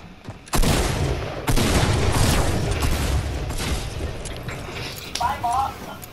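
Rapid automatic gunfire from a weapon that fires on its own in a mobile shooter game, a dense burst of shots running almost continuously over several seconds, loud and close, with talk over it.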